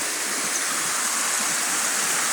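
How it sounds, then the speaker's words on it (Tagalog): Lapi Falls in Peñablanca, Cagayan, pours in a continuous loud broadband rush of falling water, steady and close with no voices over it. "Ito yung pangalawang falls natin mga idol."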